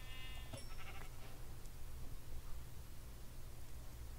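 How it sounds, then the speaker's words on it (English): Minecraft sheep bleating in-game: a quick burst of harmonic bleats near the start, then a steady noisy background hiss for the rest. "Ooh, a sheep."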